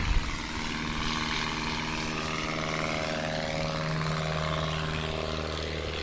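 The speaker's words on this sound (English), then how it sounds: "on that takeoff with Moak, it's also always measured by the last wheel to leave the ground" A STOL aircraft taking off in a crosswind during a Husky National STOL Series event at Sun 'n Fun's Paradise City, its propeller engine droning steadily and fairly loudly throughout.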